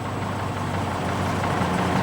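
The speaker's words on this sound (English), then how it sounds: "Nice little FG tractor, complete with generator on the back in proper Showland format" A Foden FG showman's tractor with a generator mounted on the back, at the 1995 Bloxham parade, runs with a steady, even engine drone at close range, alone with no talk.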